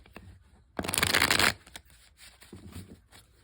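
A brisk riffle of playing cards being shuffled, a loud crisp burst lasting under a second, followed by softer taps and handling noises.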